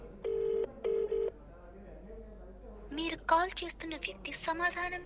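Two short buzzing ringback tones sound over a phone line, one right after the other, and then a person starts talking.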